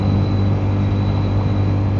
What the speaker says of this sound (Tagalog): yung tunog ng tambucho